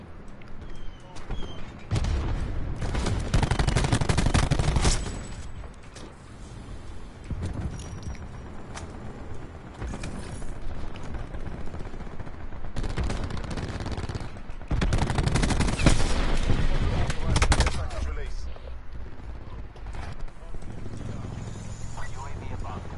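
Bursts of automatic gunfire in the video game Black Ops 4 come in loud repeated volleys separated by quieter stretches, with occasional talk in between.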